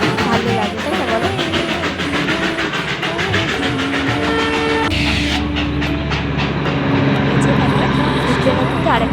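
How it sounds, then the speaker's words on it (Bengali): Darjeeling toy train running at Batasia Loop, a steady rumbling rolling noise with rhythmic clatter close by; partway through, the sound shifts as the train grows louder, and people talk over it throughout. "ট্রেনও কিন্তু আরেকটা চলে আসে।"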